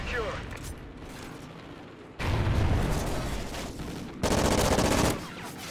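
Rapid submachine gun fire from Call of Duty: Ghosts, loud repeated bursts of shots in two clusters over continuous game noise, with someone talking in places.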